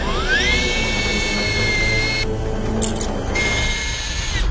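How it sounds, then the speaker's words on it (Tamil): A steady whining drill running under load as it bores into a tree trunk, its pitch rising as it spins up, with a brief change in tone midway as it bites in. "இப்ப இந்த மரத்தை வந்து நம்ம ட்ரில் பண்ணி பார்ப்போம்"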